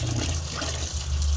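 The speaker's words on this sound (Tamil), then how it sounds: "அப்படியே தண்ணி நல்லா க்ளீனாக ஒரு 3 டைம் கழுவுணுங்க" Crushed turkey berries are swished and rinsed in water, a continuous close sloshing and splashing that stays fairly loud throughout the short stretch.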